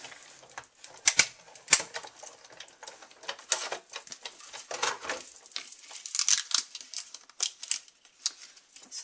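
Card pieces are cut for a handmade You Made My Day card with feathers, giving a close run of quick snips and paper crinkles, irregular and crisp, with no talking.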